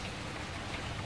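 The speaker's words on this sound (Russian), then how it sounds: "люблю дождь." Steady rain pours down in a dense, even hiss with no breaks, loud and close throughout.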